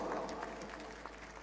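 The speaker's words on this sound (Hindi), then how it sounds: "मुझे एक बार पीछे तक ताली बजा करके हुक्म दें" Steady audience applause at a mushaira in Mumbra, a dense wash of many hands clapping evenly from a crowd with no single voice standing out.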